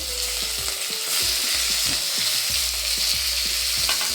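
Fenugreek leaves and tomato fry in an open pot for mushroom pulao, a steady close sizzle with repeated scraping stirs about every few tenths of a second and no voices.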